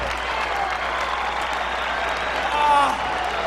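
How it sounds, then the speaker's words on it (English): A large arena crowd applauds after an Anderson Silva vs Chael Sonnen fight, a loud, continuous roar of clapping and cheering with a voice talking over it throughout. "I want everybody to applaud Chael."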